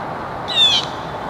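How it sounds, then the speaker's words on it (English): A single loud bird call rings out near the listener, a short bright squawk lasting about a third of a second over a quiet background. "Bird's making loud noises."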